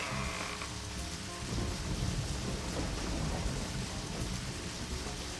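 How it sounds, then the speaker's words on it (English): Heavy rain pours steadily with a rumble of thunder in the video game Deadly Premonition, a dense, loud wash filling the whole stretch with no talk. "Oh, this rain."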